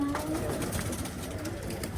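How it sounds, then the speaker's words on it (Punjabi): Pigeons coo softly and repeatedly against a constant background noise, with faint voices mixed in. "ਹੁਣ ਆ ਕਬੂਤਰ ਆ ਵੀ ਧੰਨੇ ਦੇ ਕਬੂਤਰਾਂ ਚੋਂ ਆ"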